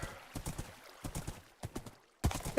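Horse hooves clip-clop in a Minecraft survival server world, a few short irregular bursts of clopping separated by brief pauses, fairly close and alone.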